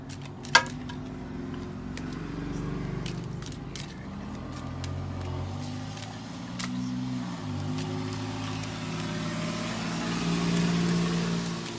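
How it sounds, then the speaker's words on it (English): A loud car passes by outside an open window, its engine rumbling steadily through the whole stretch and swelling near the end, with a sharp click near the start. "There's a really loud car going by."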